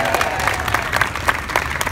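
A street-performance audience at Faneuil Hall in Boston clapping and cheering, dense steady applause with scattered whoops, moderately close and continuous.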